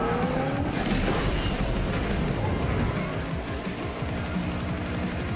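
Race car engine in Asphalt 8 Airborne accelerating with a loud, steady roar and rising harmonic sweeps, dense gameplay noise filling the whole stretch without speech.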